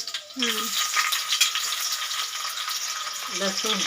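Garlic, chili and onion sizzle and fry in a pan while being stirred for fenugreek bhaji, a steady close crackle with a voice speaking briefly at the start and end.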